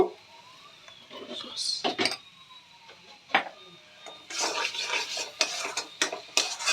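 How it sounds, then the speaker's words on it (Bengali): Tomato paste stirred and fried in a pan, with spoon scrapes and clinks against the metal, intermittent sizzling bursts and soft background noise, no voices. "এবার টমেটোর যতক্ষণ না কাঁচা গন্ধটা চলে যাচ্ছে ততক্ষণ আমরা ভালো করে ভেজে নেব"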